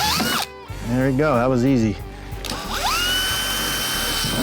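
A power drill bores holes into the door of a Honda Pioneer 1000 side-by-side, a rising motor whine with a grinding bite into the panel, close and loud, with someone talking briefly over it.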